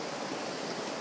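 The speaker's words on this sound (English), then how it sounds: "Lady Barron Waterfall, apparently." Lady Barron Waterfall in Tasmania roars as a loud, steady broadband rush of falling water, close by and continuous with no voices over it.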